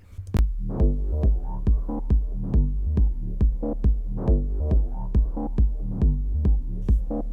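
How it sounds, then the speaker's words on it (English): A steady techno kick drum thumps in an even four-on-the-floor pulse, locked with a deep, rolling bassline, loud and dry with no voices. "I'll play the low end on its own so you can get a feel for it."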